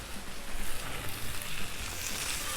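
Potatoes fry in butter on a Blackstone griddle with a steady, loud, crackling sizzle that holds constant throughout, with no talking.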